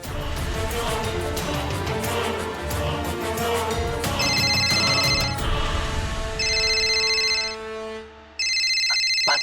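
A phone ringtone plays in repeated electronic bursts, ringing an unanswered call, with a steady background bed beneath and a brief pause before the final ring.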